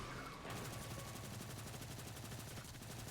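Rapid automatic gunfire in a Destiny lost sector, a fast, even stream of shots close and loud, holding almost unbroken from start to finish.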